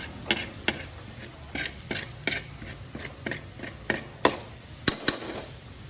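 Garlic frying in a pan with steady sizzling, broken by sharp, regular clinks and scrapes of a spatula being stirred through it, close and without voices.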